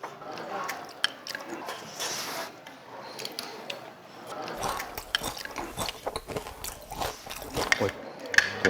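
Crispy squid pancake being bitten and chewed, giving repeated sharp crunches and crackles up close, mixed with talking voices.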